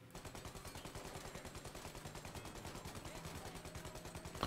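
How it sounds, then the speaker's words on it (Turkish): Automatic gunfire in the Mafia video game rattles in a fast, evenly pulsing stream, quiet and distant-sounding, with some talk underneath. "Özellikle arabaya değil de şoföre, arkadaki elemanlara falan ateş etmeye çalışıyorum ki çok daha iyi olsun."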